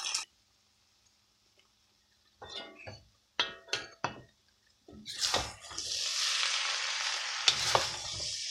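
Hakka noodles with shredded chicken stir-fry in a pan: a few sharp utensil clinks and taps first, then a loud, continuous sizzle of frying food that fills the rest of the clip.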